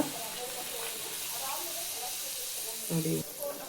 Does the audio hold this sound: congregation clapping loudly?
no